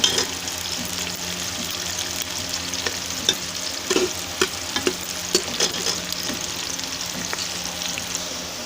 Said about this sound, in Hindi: हम थोड़ा सा प्याज को ब्राउन कर लेंगे। बहुत ज़्यादा ब्राउन नहीं करना, हमें लाइट ब्राउन रखना है।